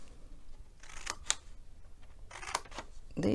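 Scissors snipping through a paper butterfly treat box template, a few quiet crisp cuts in two small clusters with gaps between them.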